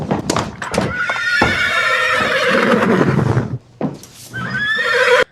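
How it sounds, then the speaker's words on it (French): A horse walks into a bar in an AI-generated scene and lets out a loud, close neigh with rising and falling whinnies, followed by a brief pause and a second whinny. "Là, c'est un cheval qui débarque dans un bar."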